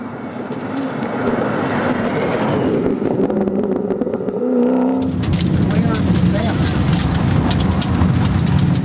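A Porsche with a 4.2 litre water-cooled V8 engine drives past at a rally. The engine roars loudly and steadily, then rises in a harsher surge as it passes.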